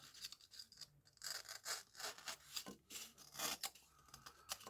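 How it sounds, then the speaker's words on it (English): Hand carving of a wooden jaw harp case, hollowing a recess for the harp: close, irregular scraping and rasping strokes of a blade on wood in short bursts, with no voices. "It's just a matter really of just carving it so you've got enough out so that your harp sits down nicely in there"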